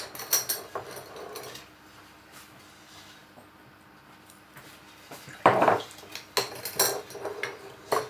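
A ladle scrapes and clinks in a pot while elderflower wine mixture is stirred, with scattered soft knocks and a louder burst of clatter toward the end; no one speaks.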